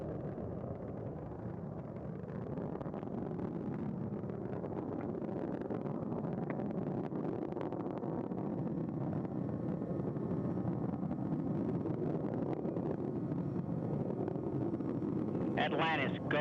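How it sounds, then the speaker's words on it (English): Space Shuttle Atlantis main engines during launch ascent on the final shuttle launch, a steady distant roaring rumble lasting throughout, with voices talking over it. "Engines now revving up, standing by for the throttle up call."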